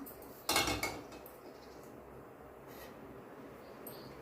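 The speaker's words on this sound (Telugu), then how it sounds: "గిన్నె పెట్టుకుందాం" A metal cooking pot set down on a lit stove in a home kitchen, one brief close clank followed by a quiet steady background hum.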